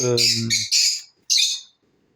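Pet birds squawk loudly indoors in several sharp, harsh bursts close to the microphone, with a short pause between calls.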